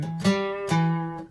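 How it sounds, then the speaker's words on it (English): Two plucked guitar notes rising in a short bass run up, each attack ringing with clear harmonics, close and moderately loud with no talking, from a song's guitar part. "And then there's a little bass run up"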